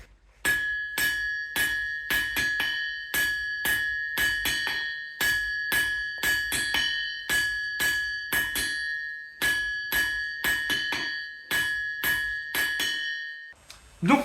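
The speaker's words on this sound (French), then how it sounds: "Et donc voilà le son naturel de mon enclume." A blacksmith's anvil, magnets removed, rings out naturally under a long series of hammer strikes landing in quick rhythmic bursts, each blow leaving a bright, sustained metallic tone that carries between hits.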